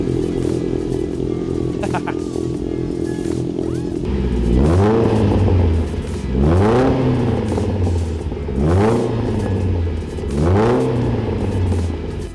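A Mercedes 190E engine with a custom exhaust idles with a deep exhaust rumble, then revs up and drops back repeatedly, four throaty swells from close by.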